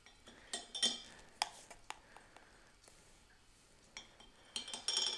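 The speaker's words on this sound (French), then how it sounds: "2 petites cuillères à café dans la détox. On mélange" Teaspoons clinking against a glass while stirring a detox drink into a litre of water, several light metallic taps spaced irregularly, close and quiet.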